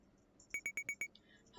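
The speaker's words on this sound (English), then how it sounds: "The book scanner alarm goes off." Library book scanner alarm in the game Butterfly Soup sounding five quick evenly spaced electronic beeps, clear and alone, followed by a brief sharp cry at the end.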